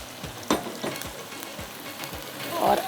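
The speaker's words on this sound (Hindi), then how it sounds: "ये बीफ का गोश्त है, तो इसलिए हम पहले थोड़ा सा इसको यहाँ पर मसाले के साथ भूनेंगे" Beef sizzles with spices in a pan while being stirred, a close, steady frying crackle broken by soft scraping stir strokes, with no speech.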